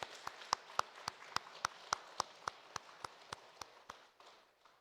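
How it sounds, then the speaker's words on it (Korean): A church congregation claps in welcome for visitors during a Sunday worship service, a steady run of sharp, evenly spaced claps that fade gently toward the end, moderately distant in a reverberant hall. "우리 박수로 맞이하도록 하겠습니다"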